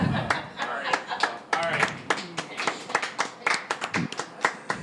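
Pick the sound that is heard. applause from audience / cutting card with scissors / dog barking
applause from audience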